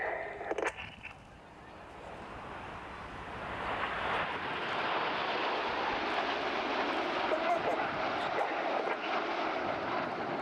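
Red Arrows RAF jets performing a flying display at the Midlands Air Festival, Ragley Hall; a broad, sustained jet roar swells after a few seconds and holds steady, with a commentator's voice over the top.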